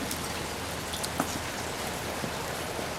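Steady outdoor morning rain with a constant broadband hiss and a few scattered louder drops, even and moderately close, with no talking.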